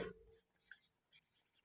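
Chalk or marker writing on a board in a classroom, short scratchy strokes in bursts with small gaps between them, faint and close, with no talking.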